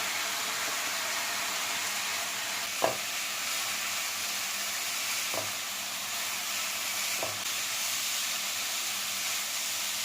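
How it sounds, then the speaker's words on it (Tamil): Vegetables for a vegetarian lasagna sauté in a pan with chilli flakes, mixed herbs and paprika, giving a steady close sizzle and hiss broken by a few soft knocks of a stirring spoon. "வெஜிடபிள்ஸ் வதங்கினதுக்கப்புறமா இதில் chilli flakes, mixed herbs, paprika powder 3 சேர்த்துக்கலாம்."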